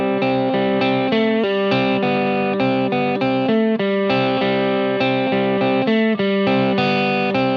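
A distorted electric guitar riff plays steadily with a repeating rhythmic pattern, loud and continuous with effects-laden tone and no talking.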